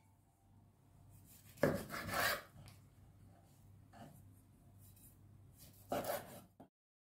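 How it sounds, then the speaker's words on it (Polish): Knife cutting sausage on a board in a home kitchen, a few quiet scraping and chopping strokes, two stronger bursts among fainter rubbing sounds, close and with no talk. "i kroję kiełbasę"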